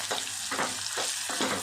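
Sliced okra frying in a pan with onions, ginger-garlic paste and turmeric: a loud continuous sizzle broken by regular scraping stir strokes about every half second.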